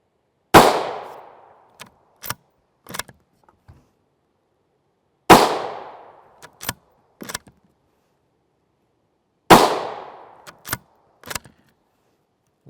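Three loud, sharp rifle shots of 5.56x45mm 77gr OTM Sellier and Bellot ammunition, fired from a longer barrel, spaced about four to five seconds apart, each followed by a decaying echo and a few faint clicks.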